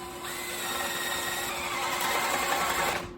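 Steady whirring of a power drill boring slowly and straight down into wood with a paddle bit for a dowel hole in a DIY garage hanging storage build, close and continuous, then stopping abruptly at the end.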